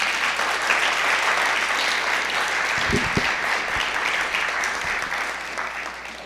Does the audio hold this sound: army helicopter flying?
no